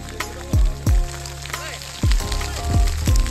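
Pelting hail drumming on a hard surface at the summit of Mount Slamet, with a steady patter and several sharp heavy impacts, close by, with a voice faintly in the background.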